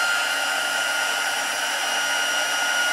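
A heat gun blasts steadily while heat embossing powder on a card sentiment for a silver and gold gift bag, a constant close, loud broadband whoosh with no breaks.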